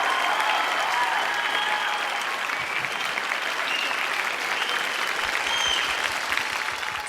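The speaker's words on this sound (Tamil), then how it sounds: "பயங்கரமா கைத்தட்டல்லாம் வாங்கியிருக்கீங்க ஜட்ஜஸ் கிட்ட இருந்து" Audience and judges applaud loudly after a Tamil film song performance on a singing competition stage, a dense, sustained wash of clapping with no gaps.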